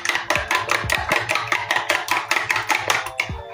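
Eggs whisked with cinnamon in a bowl, a brisk steady run of about a dozen sharp clinking strokes against the side, close and loud, with no talk.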